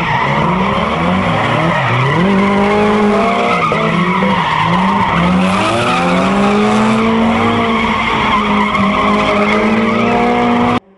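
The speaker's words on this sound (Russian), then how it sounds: "На открытой площадке мастера дрифтинга устроили показательные выступления" A drift car slides sideways during a car show demonstration on an open lot, its tires squealing loudly and continuously under a revving engine for the whole stretch.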